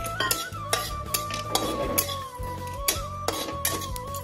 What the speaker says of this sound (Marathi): बघा ही बडीशेप आहे ना ती टाकते. मस्तपैकी ती पण भाजून घेते.